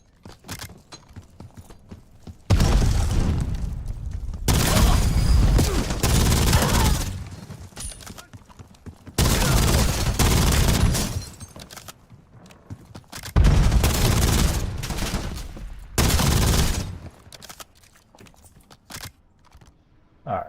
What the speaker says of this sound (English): Incoming shots!